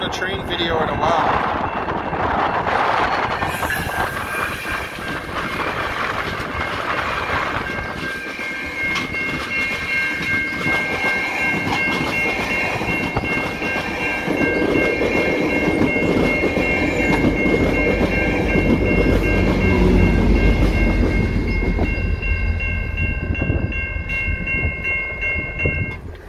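A train rumbles past at close range with a continuous heavy roar and rail clatter, a long drawn-out passing that swells toward the end.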